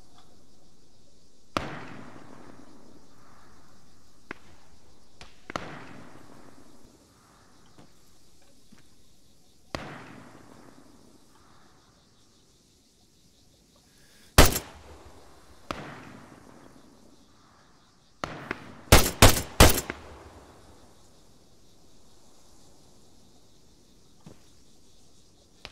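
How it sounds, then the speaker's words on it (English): Gunfire aimed at an ammunition truck at extreme range: a few isolated sharp reports spaced seconds apart, then a tight cluster of three or four loud shots near the end, over a quiet background. "Firing."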